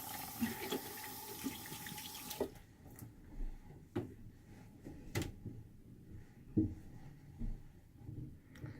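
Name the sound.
washing hands under a running tap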